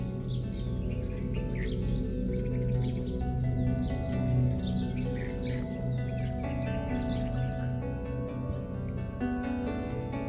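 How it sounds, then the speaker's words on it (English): Several birds chirp and tweet continuously in a busy chorus at Bhuleshwar temple near Pune, layered over a steady background hum. "the chirping sound of birds"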